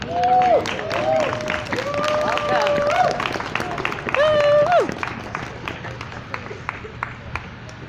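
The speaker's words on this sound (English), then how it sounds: "So if you just warm round of applause," A crowd at an outdoor Extinction Rebellion demonstration claps in scattered, crisp bursts, with whooping voices rising over the applause before it thins out and fades.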